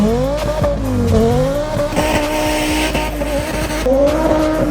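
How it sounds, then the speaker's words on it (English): A turbo-swapped BMW E30 does a burnout, its engine revving hard and loud with squealing, skidding tires, rising and falling pitch over a few seconds. "I'm gonna go do a nasty burnout, and if it blows up, I do not care."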